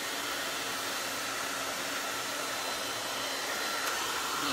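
Hair dryer blowing steadily, a loud continuous whooshing roar held close and unchanging, aimed at hair being dried straight up, with no voices.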